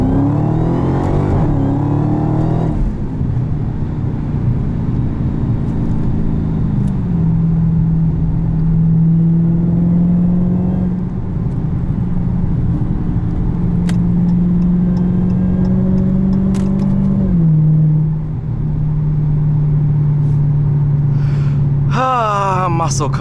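A 2016 Dodge Challenger Hellcat muscle car with automatic transmission, heard from inside the cabin, pulls hard through its gears with a loud engine roar that shifts pitch several times.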